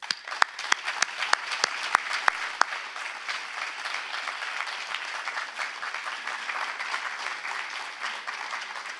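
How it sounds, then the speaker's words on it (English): Audience applause filling a municipal theatre, opening with a few loud, distinct claps before settling into a steady, dense wash of clapping from the whole crowd, with no talk over it. "please join me in congratulating them with a huge applause"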